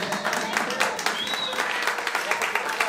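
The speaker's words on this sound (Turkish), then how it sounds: "Güçlü bir alkışı gerçekten hak ettiler." Party guests at a child's birthday party in Offenbach am Main applaud, a lively burst of close clapping with sharp individual claps standing out, and voices and chatter mixed in.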